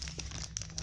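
Thin plastic packaging crinkles and rustles close up as a Schleich dog kennel toy piece is unwrapped by hand, with a quick burst of soft crackles.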